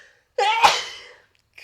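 A single sharp human sneeze, close and loud, with a quick breathy build-up bursting into a short explosive release that trails off within about a second, alone in a quiet room.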